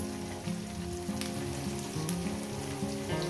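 Chopped onions frying in a pan for a Bengali eggplant and Bombay duck chorchori, giving a steady, close sizzle with soft crackles and no talking.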